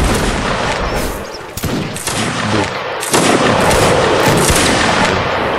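An infantry line firing a musket volley in Mount & Blade: Napoleonic Wars, a loud ragged crackle of many shots overlapping with booming reports, dense and continuous, then ringing on with scattered further fire.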